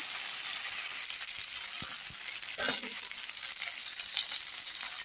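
Cabbage curry frying in a pan, a steady soft sizzle running throughout with a few faint stirring scrapes near the middle, close and moderately quiet.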